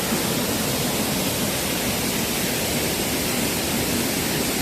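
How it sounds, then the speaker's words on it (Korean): Small waterfall beside a stony valley path near Seoul: a constant broadband rush of falling water, loud and close, steady from start to finish with no voices. "이곳에는 작은 폭포가 있습니다."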